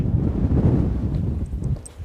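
Strong, blustery wind buffets the microphone with a steady low roar, rising and falling slightly, with faint rustling and a few light ticks near the end.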